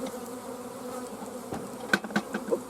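Honeybees buzzing around an outdoor bee nuc install, a steady close insect drone with a few sharper nearby passes toward the end, no talk.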